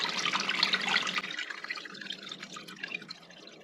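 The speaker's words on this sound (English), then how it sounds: "And now let the water drain." Water drains and drips from a paper-making screen after it is lifted from a vat of mushroom pulp, a close, bright trickle that gradually thins into scattered drips.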